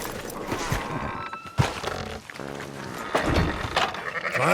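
Sheep bleat in Red Dead Redemption 2 over a busy game soundtrack with music and ambient noise, the calls rising and falling amid the mix.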